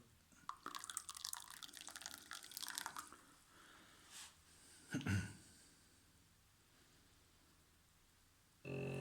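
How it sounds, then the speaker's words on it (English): Boiling water splashes and pours for a couple of seconds, then a few scattered drips and splashes follow before a sudden burst of noise at the end. "So we add some boiling water"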